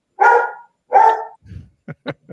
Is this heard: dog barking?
yes